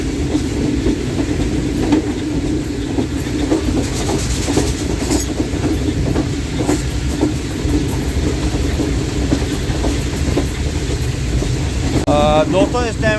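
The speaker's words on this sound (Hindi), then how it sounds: "इस टाइम 15 अप कराची एक्सप्रेस की स्पीड आपको दिखा रहा हूँ। 99 किलोमीटर पर आवर की स्पीड से ये चल रही है।" From aboard the 15 Up Karachi Express running at about 99 km/h between Multan and Lahore, a loud, steady rumble carries rhythmic wheel clatter, with a rising whine near the end and talk mixed in.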